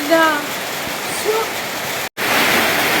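Heavy rain pours in a loud, steady roar, with a voice speaking briefly over it at the start.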